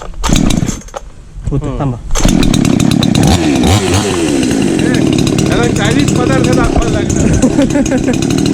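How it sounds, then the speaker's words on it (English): A 2-stroke chainsaw cuts through fallen tree logs, its engine running loud and steady after a rough start, with harsh buzzing that rises and settles under load, close to the listener. "since this chainsaw is nothing but a 2-stroke engine"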